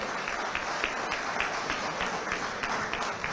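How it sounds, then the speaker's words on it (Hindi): A large crowd at a gathering in Dubai claps loudly and continuously, a dense wash of applause with slight swells, heard from within the audience. "जोरदार ताली बजाओ।"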